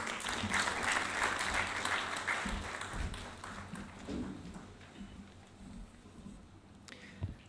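Warm applause from a conference audience after a talk on quantum physics and consciousness, dense and fairly loud at first, then thinning to scattered claps as it fades away.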